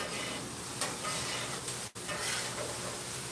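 Egg and rice worked together on a hot griddle with two spatulas, a steady dense frying hiss and sizzle with light scraping throughout, no talk.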